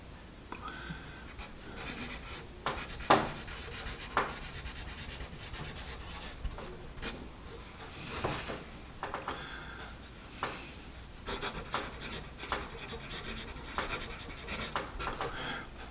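A Dixon fashion pencil scratches across paper in quiet, close strokes, a dry grainy rasp that comes in short bursts with brief pauses and faint taps between them.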